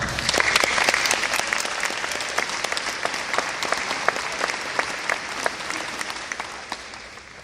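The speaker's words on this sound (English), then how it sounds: "Let's give them a round of applause." Audience applause fills a graduation ceremony hall as a crowd claps steadily and densely for several seconds, gradually easing off toward the end, with no speech over it.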